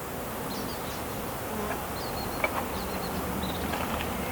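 Honeybees drone in a dense, continuous buzz during a hive inspection, loud and close, with faint higher insect whines drifting over the steady hum.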